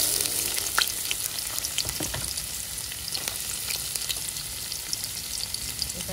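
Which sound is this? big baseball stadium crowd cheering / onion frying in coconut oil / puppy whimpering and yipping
onion frying in coconut oil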